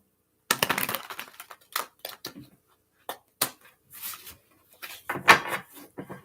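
Tarot cards being shuffled by hand, a series of brisk papery riffles and slaps in irregular bursts with short silences between, close and fairly quiet.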